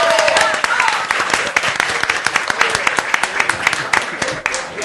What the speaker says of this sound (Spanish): Les pido un fuerte aplauso para la gente de Etcétera